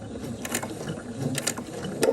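A sewing machine stitches quilt binding in brief mechanical bursts, quiet clicking and whirring with short pauses between runs.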